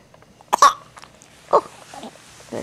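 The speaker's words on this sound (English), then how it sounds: "Oh, there's a cough." A three-month-old baby girl gives a few short, close coughs spaced apart, the first one the loudest, and softer throaty sounds follow in a quiet room.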